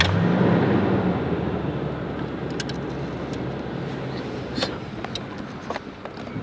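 A pickup truck engine starts up and runs in a rural spot near a logging road during a turkey hunt, giving a loud, steady rumble that eases slightly and settles into a running drone, with faint bird calls over it.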